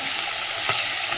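Amudi fish fry in hot oil, a loud close hiss and crackle of sizzling that holds steady, with one brief burst of spatter partway through.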